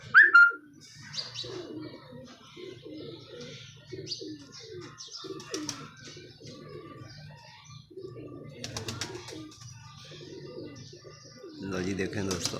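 Pigeons coo in repeated soft, throaty phrases close by, with a few chirps and wing flaps, while someone talks quietly at times over them.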